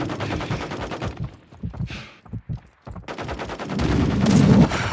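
Automatic weapons fire in a Call of Duty game, with sustained rattling bursts near and loud, a short gap of scattered shots and thuds, then heavy continuous firing building again.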